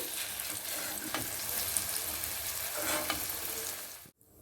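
Pumpkin pieces frying in oil for a fish-head chhyachra make a close, steady sizzle with a few soft stirring scrapes, cutting off abruptly at the end.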